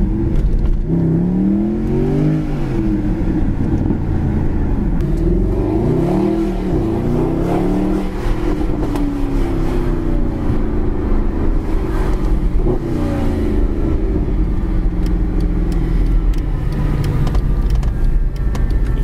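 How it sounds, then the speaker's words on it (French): A Mercedes-Benz SLS AMG's engine runs loud and close, its deep rumble rising and falling through several revs and gear changes like a passing car, continuous for the whole stretch with no talk over it. "Littéralement un bruit d'avion cette bagnole, c'est incroyable."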